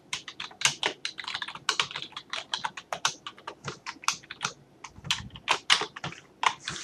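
Rapid clattery typing on a computer keyboard while writing code, an irregular stream of crisp keystrokes with brief pauses, close and moderately loud, with no voice.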